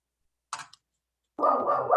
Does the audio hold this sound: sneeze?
no